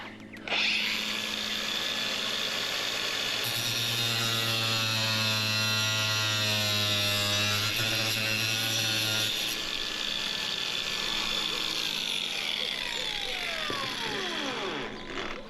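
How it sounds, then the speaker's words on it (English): A power tool cuts into a Tyger sport bar on a 2023 Jeep Gladiator, a loud close whining grind with a rising and falling pitch, steady for several seconds and then winding down. "I'll cut a little piece here so you can see how quickly it cuts"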